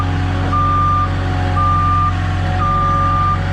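A sheetrock delivery truck backs up, its reversing alarm giving three steady beeps over a low idling engine rumble.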